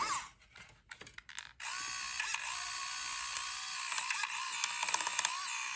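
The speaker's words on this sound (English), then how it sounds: "Now I got a 3D pen. Motor's still hitching a little bit" A homemade 3D pen motor pushing filament through, starting with a few faint clicks and then settling into a continuous whirring, ratcheting grind that hitches slightly, close up and alone.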